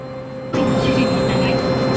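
A jetfoil high-speed boat cruising out of Hakata port, its steady engine roar and turbine hum swelling suddenly to a loud, constant drone with a high whine on top.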